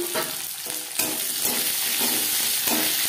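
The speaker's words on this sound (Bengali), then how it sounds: "20-25 সেকেন্ড ভেজে নেওয়ার পর দিয়ে দেবো পেঁয়াজ।" Onion frying with bay leaf and five-spice tempering in hot refined oil for a jackfruit curry, giving a loud, steady sizzle with stirring scrapes and a sharp surge near the start as the onion drops in.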